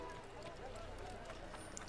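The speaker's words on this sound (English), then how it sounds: "Horses." Horse hooves clip-clop steadily through a busy, crowded street in Assassin's Creed, close and continuous under a dense bed of ambient chatter.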